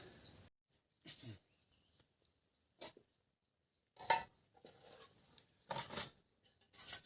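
Scattered clinks and clatters of metal cooking pots and bowls being moved about while cooking a beef tripe dish, with quiet gaps between the knocks.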